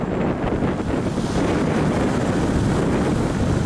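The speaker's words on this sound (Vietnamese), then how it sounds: "Lượng sóng thì phải nói thì nó quýnh, nó ngập tràn vào đây luôn các bạn ơi" Wind-driven sea waves strike an overloaded barge out on open water, giving a loud, continuous roar of wind and surging water that never lets up.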